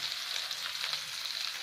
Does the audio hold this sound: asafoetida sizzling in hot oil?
yes